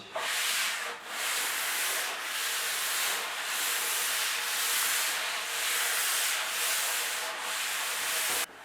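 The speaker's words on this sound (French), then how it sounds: "je suis vraiment passé avec un grain très fin au niveau du ponçage. Je suis en 400." Fine 400-grit sandpaper rubs across a beech desk top in a steady, close scratching hiss, with a rhythmic back-and-forth swell about once a second.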